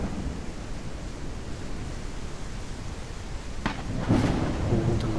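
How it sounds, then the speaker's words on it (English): A thunderstorm in the game Gothic 1 Unreal Engine: a dense, continuous roar of rain and rumbling thunder, loud throughout, with a few sharper cracks toward the end. "Looks like it's a storm."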